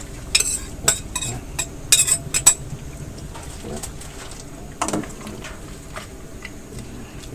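Pickled bamboo shoots drop into a pot of boiling Thai mushroom curry, with light clinks and scraping of utensils against the pot, small splashes, and birds cooing in the background.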